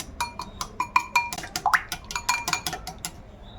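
Five eggs are mixed in a bowl for banana milk cake batter, with a quick run of sharp, close clinks as a utensil strikes the bowl in an uneven rhythm.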